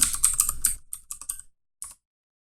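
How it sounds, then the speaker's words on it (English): Rapid bursts of keystrokes on a computer keyboard, a quick run of clicks that thins out into a few scattered taps and a final isolated keypress after a short pause. "we're going to type in Masternode outputs"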